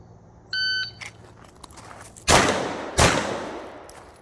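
Two sharp, loud gunshots ring out about a second apart from a Glock pistol on a shooting range, each with a brief decaying tail, preceded by an electronic timer beep.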